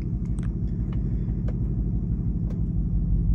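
A truck engine idling just after being started, a steady low rumbling drone close by with a few faint clicks and ticks on top.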